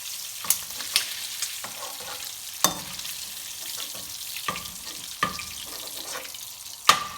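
Prawns sizzle quietly in oil, with scattered stirring clicks and scrapes breaking through the soft crackle.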